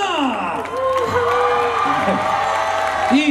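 Crowd at a Korean university festival in Daegu cheering, whooping and clapping for a K-pop girl group, a dense, steady roar mixed with shouting voices throughout.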